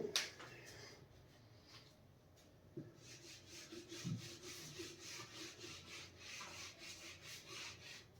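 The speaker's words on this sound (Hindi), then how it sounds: "now I am going to rub the board" Someone erases a board in a classroom, making faint, rhythmic rubbing strokes that repeat steadily at close range in an otherwise quiet room.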